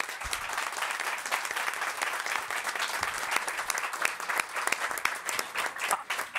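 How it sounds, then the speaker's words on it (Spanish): An audience at a Campus Party web presentation claps for itself, a sustained, fairly distant burst of many hands with no let-up and a few louder individual claps scattered through. "os deis un aplauso a vosotros mismos"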